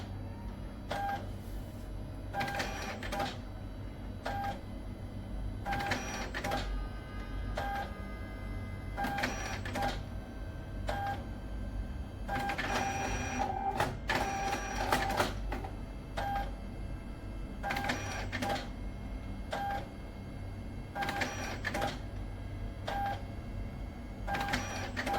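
A Zebra ZC300 ID card printer prints a dual-sided card, giving steady mechanical whirring with repeated short beeping or clicking pulses in a regular rhythm, close and continuous throughout, with no talking.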